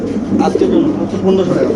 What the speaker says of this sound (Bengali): একজোড়া শার্টিং কবুতর দিয়ে মাসাল্লাহ খুব সুন্দর দেখতে পাচ্ছেন